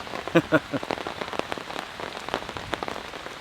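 Light rain falling outdoors at a foggy campsite, a soft steady patter of drops with a few sharper near taps early on, fairly quiet and continuous, no talking.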